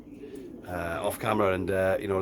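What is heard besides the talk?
racing pigeon cooing while being handled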